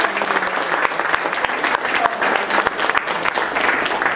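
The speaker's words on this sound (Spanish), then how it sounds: "otro aplauso para Laura" Sustained applause from an audience, a thick wash of many hands clapping at an even level throughout.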